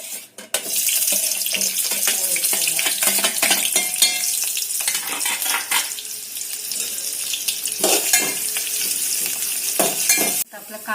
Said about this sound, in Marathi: आता आपण तेल टाकून कांदा फ्राय करून